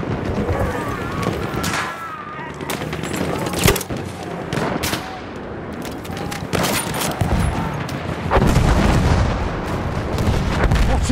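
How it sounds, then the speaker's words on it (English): Machine gun fire and explosions in a Battlefield video game, with dense bursts of rapid gunfire and heavy booms that keep going throughout, loud and close, with voices shouting beneath the battle noise. "Machine gun!"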